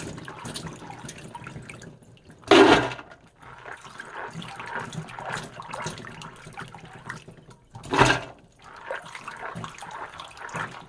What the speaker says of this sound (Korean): 콩을 깨끗이 씻어가지고 잃어가지고 안 치겠습니다